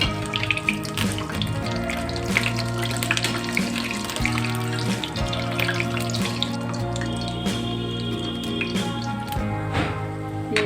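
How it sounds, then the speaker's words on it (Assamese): Ripe jackfruit pitha fry in oil over a medium gas flame, a busy crackle and bubbling with drippy pops, set against steady background music. "এতিয়া মই এটা এটা কৰি তেলত দি ল'ম"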